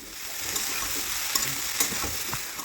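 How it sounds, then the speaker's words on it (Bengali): Cauliflower florets with green chili and salt frying in a pan, a constant close hiss of sizzling oil with faint spatula scrapes as they are tossed, no talk. "ওই মোটামুটি 4 থেকে 5 মিনিট কপিগুলোকে এইভাবে নাড়াচাড়া করতে হবে।"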